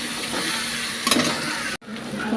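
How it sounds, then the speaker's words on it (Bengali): Spice paste with turmeric fried and stirred for vegetarian khichuri, a steady sizzle with scraping stir sounds that briefly cut out near the end. "দিয়ে মশলাটাকে ভালোভাবে কষিয়ে নেব"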